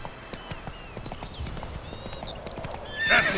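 Hooves clip-clop at a steady trot as Geralt's horse Roach moves along a road in The Witcher 3, closing with a short whinny from the horse over faint game ambience.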